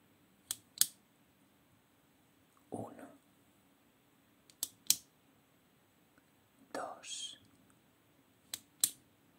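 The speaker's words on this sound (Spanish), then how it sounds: "Escucharás cinco clics." Sharp clicks of a pen in an ASMR setting, arriving in quick pairs several times across a quiet background, close and crisp, with soft whispered bursts between them.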